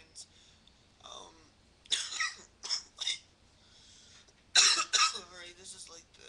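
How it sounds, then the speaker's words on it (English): A person with a cold coughs in several harsh, close bursts, first one, then a pair, then a stronger double cough, with throat clearing and breathy pauses between them. "this is like the fifth time I've had to redo this because of this cough"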